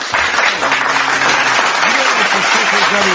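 An audience gives a round of applause at a live show, a dense clapping wash throughout while a voice talks over it.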